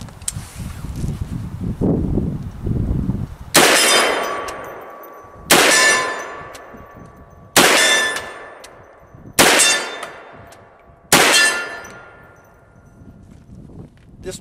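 Five sharp metallic clangs ring out at steady intervals as rounds strike ShootSteel.com steel targets about 50 yards away, each impact decaying into a long ringing tail; a faint rifle report and some rustling come before the first hit.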